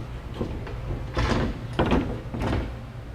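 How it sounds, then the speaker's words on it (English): Thule TracRac sliding ladder rack half being set onto truck bed rails, three separate thuds and scraping metal clunks, each followed by short rattles, close by, with no talking. "Now we'll go ahead and place our first half of the ladder rack on our rails."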